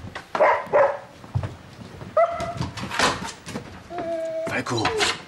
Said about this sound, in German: Entschuldigen Sie bitte, das bin nicht ich, das ist der Hund.